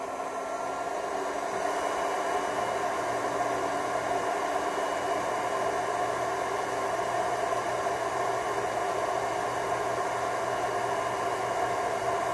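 A heating tool warming a driveshaft bolt on a 2006 Subaru B9 Tribeca, producing a steady, loud broadband hiss with a faint electrical hum underneath, unbroken from start to finish.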